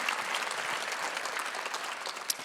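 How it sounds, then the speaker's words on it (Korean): A congregation claps loudly and continuously during a Sunday church service, a dense and steady wash of applause with one sharper clap near the end. "박수 크게 쳐"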